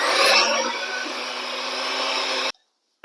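An electric hand mixer beats an egg into creamed butter and sugar for chocolate chip cookie dough, a steady loud whirring drone that runs for about two and a half seconds and then cuts off abruptly.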